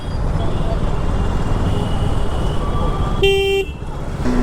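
Heavy highway traffic between Jaipur and Gurgaon during a motorcycle ride, with a steady roar of wind and engines and one sharp car horn honk near the end.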